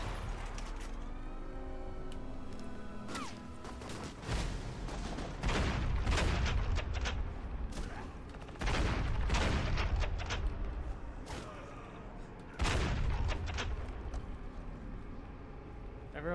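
Gunfire in the Alpha Protocol video game, loud bursts of shots and heavy impacts scattered through the stretch, mixed with other game sounds and someone talking over parts of it.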